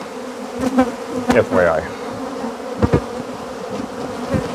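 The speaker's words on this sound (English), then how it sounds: "look at all those bees on the wall" Bees swarm along a wall with a loud, close, droning buzz that swells and fades as insects pass near, and a voice speaks briefly over it.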